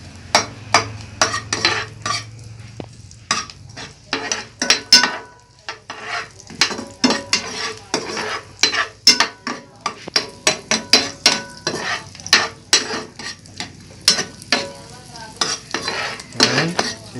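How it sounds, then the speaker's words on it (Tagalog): Garlic and onion sautéing in a pan, a close run of sharp, rapid crackles and pops over a low sizzle, with occasional clinks of a utensil against the pan and no talking. "pumipitik-pitik na ang garlic and onion"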